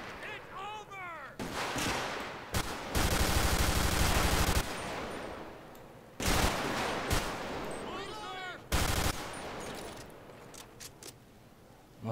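Bursts of heavy gunfire in the video game GTA 5 during a police patrol erupt repeatedly, some sustained like automatic fire, separated by quieter stretches with sharp clicks and metallic sounds.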